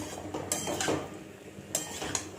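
Spices for a traditional aloo karahi are stirred in a pan over high flame. A spatula scrapes and clinks against the metal in short, irregular bursts, with a faint sizzle beneath.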